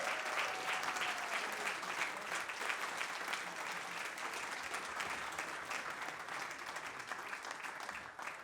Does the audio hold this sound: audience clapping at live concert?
yes